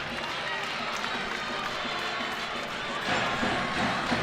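Basketball arena crowd at halftime of a men's game between Utah Valley and New Mexico State, a loud continuous wash of cheering and applause that swells toward the end.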